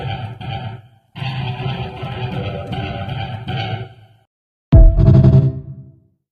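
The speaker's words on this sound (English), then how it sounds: "Run it through an amp. Now we got an electric guitar." A Street Fighter sound sample played like a heavily distorted electric guitar through an amp: two sustained, gritty phrases, a brief pause, then a loud, punchy final hit that fades out.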